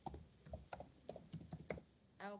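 A computer keyboard is typed on in quick, uneven bursts of faint clicks, and a voice briefly sounds at the end.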